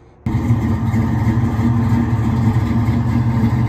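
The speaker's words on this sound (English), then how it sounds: "Wicked sounding 383." A 1969 Plymouth Barracuda Formula S with a 383 V8 kicks in abruptly and settles into a loud, steady idle, with a deep, lumpy burble close by.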